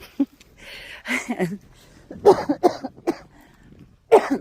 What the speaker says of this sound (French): Qui me fait encore tousser de temps en temps